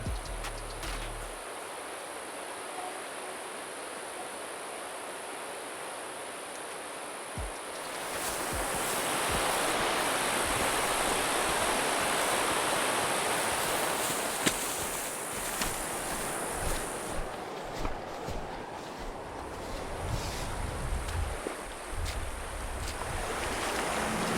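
A river flows in eastern Idaho fly fishing country, a broad, steady rush of water with wind buffeting the microphone, swelling louder partway through and then settling back.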